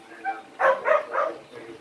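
A pet dog gives three short, close yipping barks in quick succession while people talk nearby.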